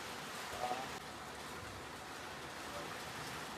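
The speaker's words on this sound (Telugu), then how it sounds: "ఫుల్ అంటే ఫుల్ వర్షం ఉంది. ఇప్పుడే స్టార్ట్ అయింది." Rain that has just begun falling heavily in hilly Mahabaleshwar makes a faint, steady hiss throughout, with a brief slightly louder patch near the start and no clear voices.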